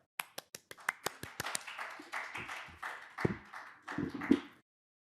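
A small audience at an academic talk applauds to welcome a speaker: a few sharp, separate claps at first, then a brief burst of scattered clapping from several people that thins out and stops.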